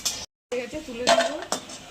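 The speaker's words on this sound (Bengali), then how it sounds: "দুটো শুকনো লঙ্কা দিলাম, একটু পাঁচফোড়ন দিলাম, দুটো তেজপাতা দিলাম" Dry red chillies, panch phoron and bay leaves hit hot oil for a potato and bottle gourd curry, crackling in short bursts with pan clatter and a brief silent gap.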